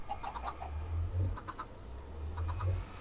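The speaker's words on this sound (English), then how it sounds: "Shut up, chickens." Chickens in the video game Minecraft cluck in short repeated bursts, several birds calling close by against a low steady background hum.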